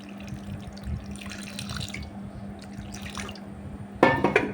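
Water pours and splashes over salted dried fish pieces soaked with a little buttermilk, running in a steady stream with louder splashes near the end, close and alone without speech.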